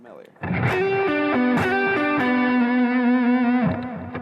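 Distorted electric guitar plays a short melody whose notes waver and bend in pitch via the whammy bar, sustaining with a singing, vocal quality, loud and upfront.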